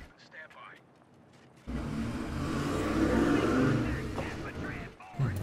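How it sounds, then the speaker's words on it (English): A loud military vehicle engine roars up and fades in a Company of Heroes 2 battle, swelling to a heavy rumble midway amid distant game noise, with someone talking briefly before and after. "It's a rather loud car."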